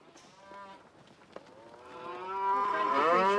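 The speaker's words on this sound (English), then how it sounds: "Sounds as if the cows are here already" Cows mooing in the countryside, a long drawn-out low moo that swells louder toward the end, with fainter lowing earlier, heard alone without talk.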